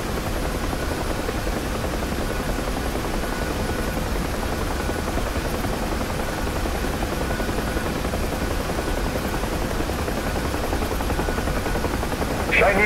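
Steady, loud rotor and turbine drone of a UH-1H Huey helicopter in the DCS flight simulator as it comes in to land, a continuous broadband roar running the whole length without a break.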